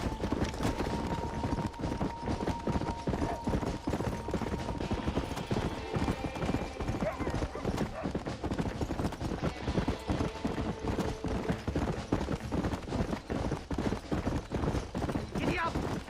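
Rapid rhythmic hoofbeats of a horse galloping in the Western video game Red Dead Redemption, steady and close throughout, with a whinny near the start and characters' voices calling out over the hooves.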